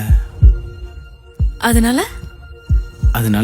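Heartbeat sound effect in a romantic scene: deep, close thumps, sometimes in quick pairs, pulsing through the clip while a voice talks over them.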